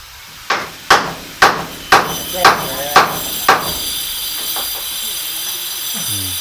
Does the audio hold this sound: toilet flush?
no